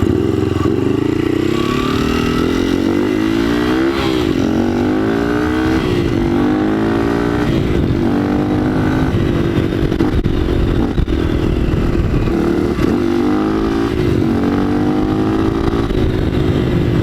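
A Honda CRF110 dirt bike engine with a lightened starter ring drones and revs continuously while riding, rising and falling in pitch, with rushing wind noise over the microphone.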